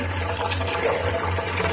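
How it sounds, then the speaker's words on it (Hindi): Water poured in a steady, continuous stream into lentils in a cooker, giving a constant rushing splash with no voices. "और अब डालेंगे हम इसमें पानी"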